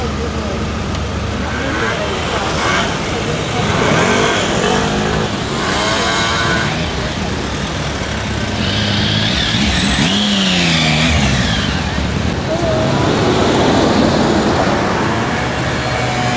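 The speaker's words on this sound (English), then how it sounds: "Driving through the centre of Paris." Steady car traffic rolls through central Paris, a continuous wash of engine and road noise with passing vehicles swelling and fading, heard from inside a moving car, with faint voices underneath.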